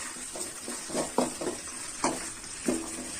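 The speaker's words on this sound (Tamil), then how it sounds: "நல்லா வதக்கிக்கோங்க" Ingredients sauté in a pan for a tamarind curry with manathakkali, giving a soft sizzle broken by several sharp, wet stirring scrapes at irregular intervals, close and moderately loud, with no talking.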